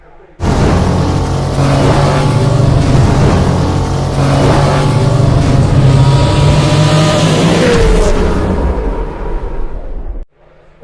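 A Maruti Suzuki Swift with a four-cylinder engine drives along, its engine giving a loud, steady droning hum with rising and falling pitch for about ten seconds before cutting off abruptly.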